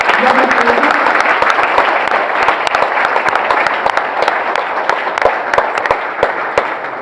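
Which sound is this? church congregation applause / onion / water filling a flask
church congregation applause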